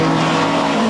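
A pack of 1989 touring-car race BMW M3s, 2.3-litre with 320 horsepower, roars loudly and steadily past with sustained engine tone and no voices.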